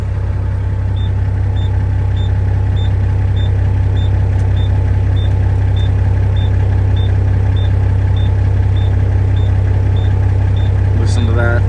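An International 9370 truck's engine runs at a steady, loud, low idle rumble, close by, with a regular high electronic beeping repeating over it throughout.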